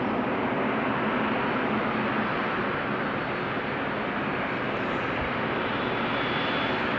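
A TUI Boeing 767 jet airliner at Amsterdam Schiphol Airport produces a steady, broad engine roar, loud and unbroken throughout, with no voices over it.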